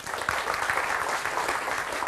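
Audience applause greets a guest speaker being welcomed onstage at a campus talk event, a steady, dense wash of clapping from a crowd sustained throughout without any voices.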